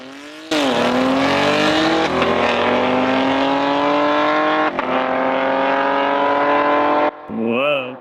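Loud engine roar as a 700 hp G81 BMW M3 Touring launches alongside an Audi RS6 Avant in a drag race, pitch climbing steadily through gears with a brief shift dip, then cutting off near the end.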